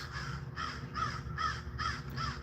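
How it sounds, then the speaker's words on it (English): A crow caws six times in a steady, evenly spaced series, moderately distant and fairly faint over low outdoor background noise, with no talking. "And y'all hear the crow"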